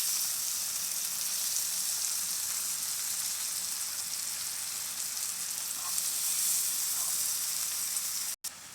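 Black beans (frijoles negros) sizzle steadily in a hot pan, a loud, even hiss of frying that continues unbroken, with a small clatter and brief cut near the end, no talking.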